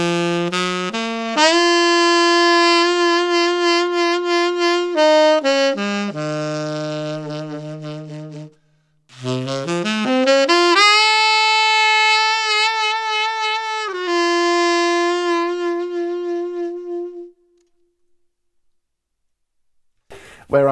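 Saxophone playing a modern jazz ballad phrase with a slow, deep vibrato, two long legato passages of sustained, wavering notes separated by a short pause, close and clear, ending in silence.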